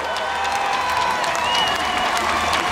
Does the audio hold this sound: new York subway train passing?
no